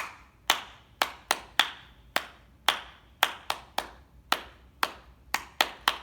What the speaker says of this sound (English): Now we're going to clap 5 times, once for each letter.